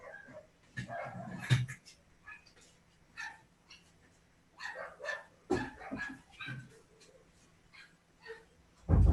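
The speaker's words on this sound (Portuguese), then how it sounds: "os cachorros da rua estão alvoroçados" Excited street dogs bark in irregular bursts, with sharp yips and overlapping barks from several animals, some near and some farther off, and a faint voice here and there.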